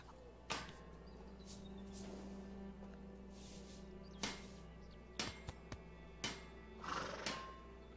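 A horse in a video game gives a faint whinny over a low steady hum, followed by scattered sharp knocks like hooves or hammering.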